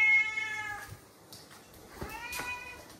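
A cat meows twice indoors, two clear, close, rising-and-falling cries separated by a short pause, with faint household background between them.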